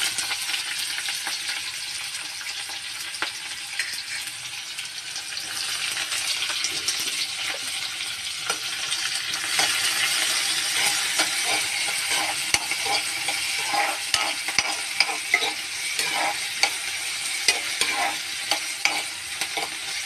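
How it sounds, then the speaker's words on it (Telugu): Mustard seeds, urad dal, green chillies and cumin fry in hot oil for a chutney, a steady bright sizzle with scattered sharp pops and stirring scrapes building over the whole stretch. "ఆవాలు, పచ్చిమిరపప్పు, మినపప్పు, జీలకర్ర వేసుకోవాలండి. సో ఇది బాగా ఫ్రై అయ్యాక ఆనియన్స్ వేసుకోవాలి."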